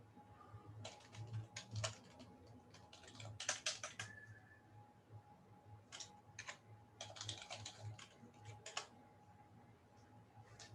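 Keys on a computer keyboard are tapped in quick, irregular bursts with short pauses between, close and fairly quiet against a low steady hum.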